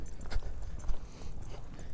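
A horse's hooves clip-clop in an arena during an upward transition into canter, a few dull thuds in an uneven rhythm under faint background noise.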